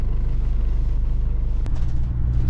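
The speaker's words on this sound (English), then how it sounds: "So we're in the van, aren't we, Kellan? Are we in the van, moving?" Steady low engine rumble and road drone from inside a moving van, continuous and close for the whole stretch, with no talk.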